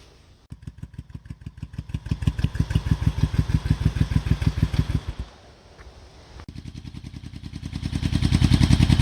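An old Honda motorcycle from a cheap restoration project cranks and catches, then runs with a rapid, loud pulsing beat. It dies out briefly before being restarted and revving up again, close by and with no voices.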